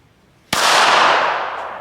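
A single sharp shot from a Ruger Security .380 pistol at a shooting range, a loud close crack followed by a long decaying reverberant tail, with no voices.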